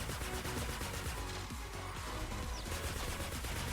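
Weapon fire in Fortnite Save the World, a steady stream of rapid automatic shots, dense and continuous at an even loudness for several seconds, heard alone without talk.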